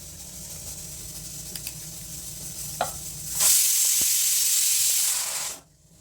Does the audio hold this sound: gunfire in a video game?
no